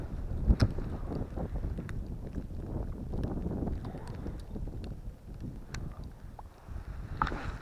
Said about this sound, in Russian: Нормальный такой ветруган дует.